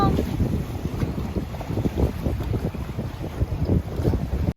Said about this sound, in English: For some reason, our side of the bungalow is extremely windy.